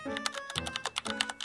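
Rapid key presses on a new gaming PC's RGB-lit keyboard, a close, busy run of typing clatter with uneven rhythm and no voices.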